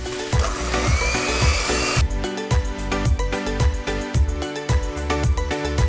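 An electric beater whirs steadily while beating sunflower oil into cake batter, with loud rhythmic knocking of the beaters against the bowl that grows sharper partway through.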